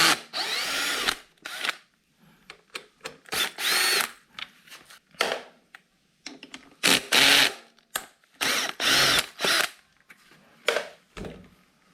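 A power drill, likely driven as an impact driver, removes bolts from a 2021 Electric Motion electric trials bike in short, loud, close bursts of whirring separated by brief pauses, with no talk.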